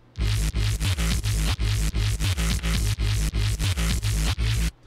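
A heavily compressed bass line thumps in a repeating rhythmic pattern of short, dense notes, loud and gritty with a buzzing, distorted edge.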